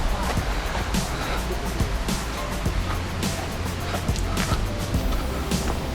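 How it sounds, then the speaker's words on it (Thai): A steady, dense roar of rushing water fills the whole clip, loud and close, with no clear voices over it. "โอ้โหเสียงน้ำตก"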